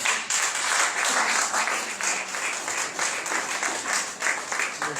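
A church congregation claps and cheers loudly and continuously, a dense wash of applause that swells in waves and runs without a break throughout.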